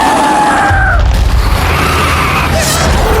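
A massive fuel barrel explosion in a fantasy movie battle booms loud and sustained, a deep roaring blast with rumbling debris and no dialogue over it.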